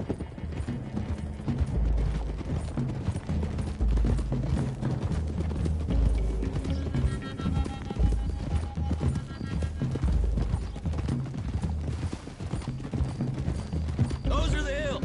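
Horses' hooves clip-clop steadily in Red Dead Redemption 2 as riders travel a road toward the hills, mixed under music and game sounds with occasional voices.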